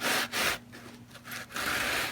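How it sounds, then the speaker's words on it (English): A sanding block rubs across guitar frets while they are polished on a Squier Affinity Strat, giving rasping strokes with two quick passes at the start and a longer scrape near the end, close and alone. "So we just put a little bit of pressure on the sanding block and it cleans them all up nice and shiny."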